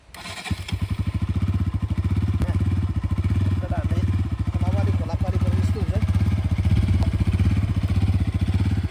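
A motorbike's engine starts and settles into a close, steady idle, its throb running loudly and evenly throughout, with faint voices behind it.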